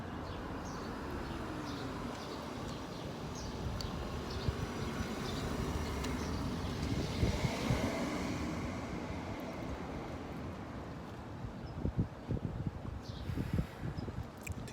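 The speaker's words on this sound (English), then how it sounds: "Did you hear the birds? Did you hear the airplane? Did you hear the cars?" Quiet outdoor ambience with a constant low rumble of distant cars and an airplane passing overhead that swells in the middle, while faint birds chirp sporadically in the background.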